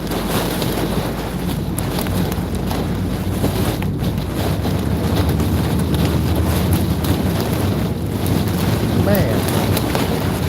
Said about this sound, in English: Oh, man, look at that wind.